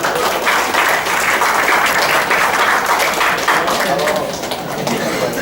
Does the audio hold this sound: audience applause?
yes